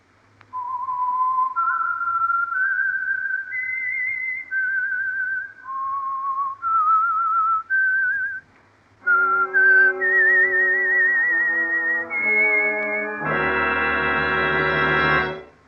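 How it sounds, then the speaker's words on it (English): A solo whistled theme of clear sustained notes for the radio program The Whistler rises and falls, then shifts into a fuller orchestral phrase that swells to a loud, held chord. "the signal to listen for is this whistle that identifies the Signal Oil program"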